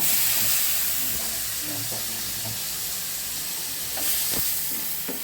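Bitter gourd slices fry with poppy seeds in a pan, giving off a steady close hiss and sizzle broken by a few scraping stirs.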